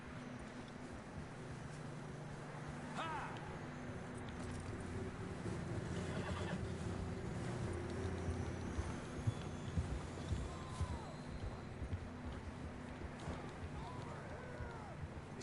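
Horses in a Wild West video game trot with steady clip-clopping hooves and give a few neighs, heard at a moderate distance while someone talks over them.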